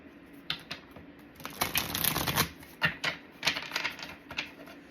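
A tarot card deck is shuffled nearby, giving soft riffling and flicking bursts with clustered papery taps over a few seconds, without any voices.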